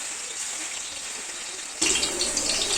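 Banana chip slices for Onam upperi dropped into hot oil, a quiet hiss that jumps to a sudden loud, bubbling sizzle partway through and keeps going.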